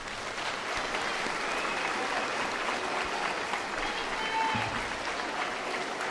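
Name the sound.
audience applause for 7th grade award winners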